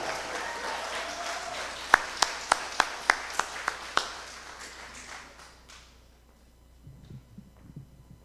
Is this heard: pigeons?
no